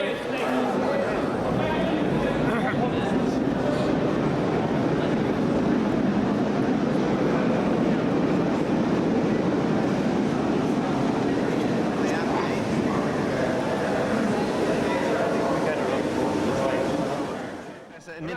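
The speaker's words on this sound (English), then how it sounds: "it's a wonderful train" A long, steady rumble of a train rolls past nearby, a broad continuous roar that holds for most of the stretch before easing off at the end.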